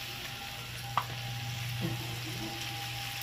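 Soya chunks with chilli are stirred in a dry pan with no water added, giving a steady low sizzle, a sharp spoon clack near the start and a softer scrape later on.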